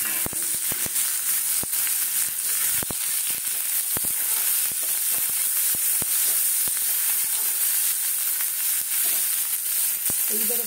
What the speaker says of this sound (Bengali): দেখো কড়া চাপিয়েছি, কড়াতে সর্ষে তেলে দিয়েছি